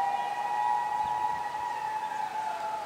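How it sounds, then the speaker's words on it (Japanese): An ambulance siren sounds steadily nearby on a street beside the Ojin emperor's burial mound in Japan, moderately loud, with faint background street noise. "救急車がずーっと鳴ってる、ねね、サイレンが鳴ってるんだけどね"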